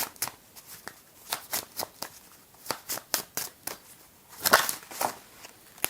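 Tarot cards shuffled and dealt during a reading, a quick run of crisp riffling flicks and soft slaps that turns into a denser burst of shuffling near the end, up close and on its own.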